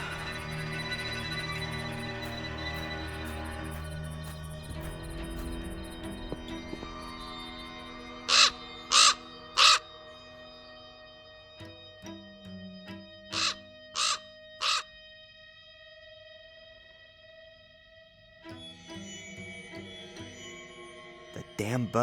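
A raven in the Black Mirror II game caws in repeated harsh bursts, first a quick run of three and later another cluster of three, loud against a quiet ambient backdrop.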